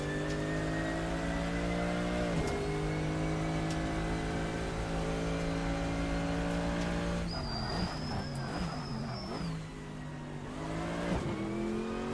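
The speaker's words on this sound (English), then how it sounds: "Two downshifts there." A GT3 race car at Portimao in Assetto Corsa holds a steady engine drone, then drops through two quick downshifts with sharp revving blips and tire squeal before settling again. The engine stays loud and close, with no voices.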